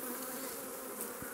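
Honey bees swarming around an opened hive being prepared for winter, a dense, steady buzzing drone that fills the whole clip at close range with no voices.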